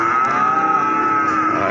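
Cattle at a rainy village cattle market in Pati low out in one long, steady, loud moo that holds for the whole moment, close by.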